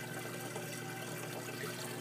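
Water from an aquarium return trickles steadily across a filter pad in a Coralife Biocube 29 tank, a quiet continuous splashing flow with a faint hum beneath.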